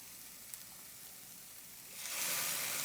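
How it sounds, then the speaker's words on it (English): Chicken spaghetti sizzling in a pan with cream of mushroom soup and garlic, a soft steady hiss that swells louder in the last second, with no talking. "Ooh, sizzle."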